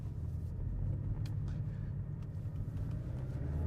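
A Porsche 718 Cayman S with a turbocharged four-cylinder and PDK gearbox gives a low, steady engine rumble heard from inside the cabin, fairly quiet and continuous with no talking.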